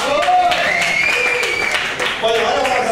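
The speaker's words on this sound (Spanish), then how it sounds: "¡Aplausos, viejo!" A crowd at a live rock concert in Salón Pueyrredón applauds loudly and continuously, with piercing whistles rising and falling over dense clapping and shouting voices.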